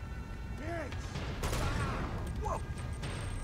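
Grenades going off in Uncharted 2 gameplay: a dense, noisy burst of explosion-like blasts with gunfire texture, a loud hit around the middle, over continuous game background.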